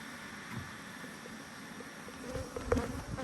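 A steady, faint buzz of many honey bees at sourwood hives fills the background, a low continuous drone that swells slightly toward the end with no talking.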